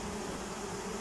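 Bees flying near a hive in an apiary, a steady dense buzz filling the short stretch without pause.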